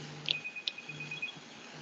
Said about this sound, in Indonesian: Pak Don, sebentar saya ada telepon